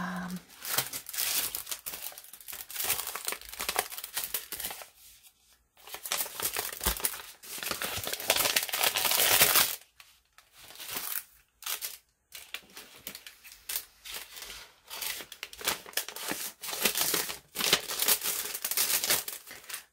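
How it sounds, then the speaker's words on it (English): Tea-dyed paper security envelopes being handled up close, crisp crinkling and rustling in bursts separated by brief quiet pauses. "So these are security envelopes that have been tea-dyed."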